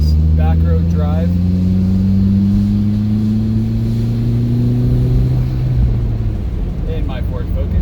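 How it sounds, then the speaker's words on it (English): Ford Focus ST driving along Stunt Road in the Santa Monica Mountains, its engine a loud steady drone with rising pitch as it accelerates through gears, continuous and close, with brief speech over it. "I'm gonna go for a little nice back road drive"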